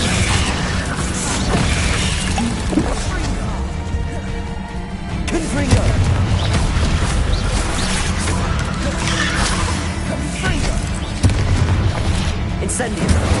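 Confringo blasting spells cast in the Hogwarts Legacy video game produce repeated loud booming explosions with crackling debris, layered dense and continuous over busy combat noise.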